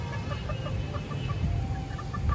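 A hen with an infection clucks in short, soft repeated notes over a low rumbling background, moderately near and alone without talk.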